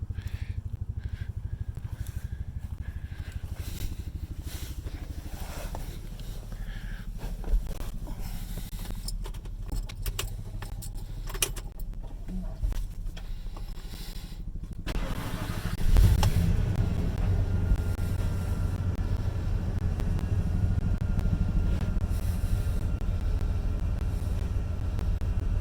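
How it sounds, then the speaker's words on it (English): A 1993 Ford F250 XL with a 460 gas engine and a 5-speed manual runs with a steady, loud low rumble. The engine note swells and roughens about midway, then holds a heavier drone to the end, with no talk. "Do a cold start on it."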